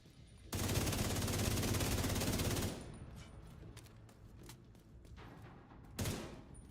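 A sustained burst of rapid automatic gunfire rattles for about two seconds in a The Division 2 shooter game, followed by scattered single shots and clicks, then another short burst near the end.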